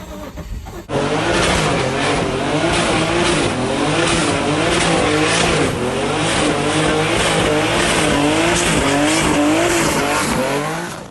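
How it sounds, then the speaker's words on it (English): A car's engine catches after a short cranking stretch and roars into loud, steady revving that fills the whole stretch, harsh and close, with no voices over it. "I'm finally starting the car for the first time"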